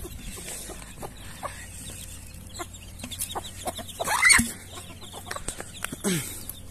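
Chickens cluck and squawk on a small poultry farm in Arunachal Pradesh, India, with repeated short calls at close range and a louder burst of flapping and squawking near the end, no talk over it.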